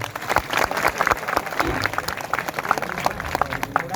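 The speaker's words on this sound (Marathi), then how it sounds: "त्या खेळाडूंचं आपण सगळ्यांच्या वतीने टाळ्या वाजवून स्वागत करायचंय." An audience at a Johar festival gathering in Jalgaon claps to welcome sports players. The applause comes as a dense patter of many hands at moderate distance, with a voice heard faintly over it.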